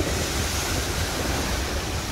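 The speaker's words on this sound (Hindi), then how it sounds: "ये लहरों की आवाज़ और ये टकराव लहरों का," Ocean waves wash onto the beach at Kenilworth, Illinois, a continuous loud broadband roar of surf mixed with wind buffeting the microphone, with no voices.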